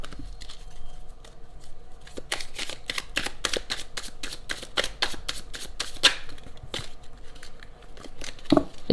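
Tarot cards are shuffled by hand in a quiet room, a steady run of crisp, close riffling flicks and soft paper slaps, fairly even in rhythm with a few louder snaps near the end.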